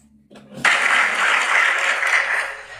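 Audience applause breaks out after a brief murmur, a sudden burst of many hands clapping that stays loud and dense, then eases slightly near the end.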